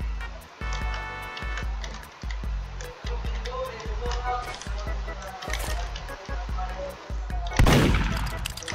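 Gunshots in the Roblox game Murder Mystery 2, heard as a steady run of punchy low shots in quick rhythm, capped by a louder burst near the end, with game noise throughout.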